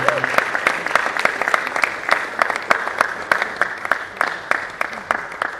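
An audience at a medical school's scientific conference plenary session applauds a professor and dean, loud, sharp claps in a fast, uneven rhythm with individual hands standing out, and some talk mixed in.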